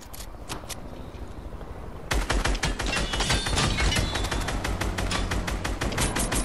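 Rapid video game gunfire, a dense stream of loud close automatic shots that starts abruptly and keeps rattling without pause, with quieter shots before it.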